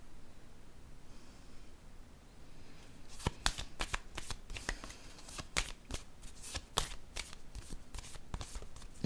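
Tarot cards shuffled and handled close up during a card reading: a quiet rustle first, then a rapid run of crisp riffling snaps and slaps that continues to the end.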